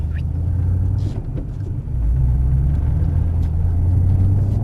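A Ford Mustang Shelby's engine rumbles during drift training, a close, steady low growl that dips briefly and then swells louder as the car accelerates, with no voices over it.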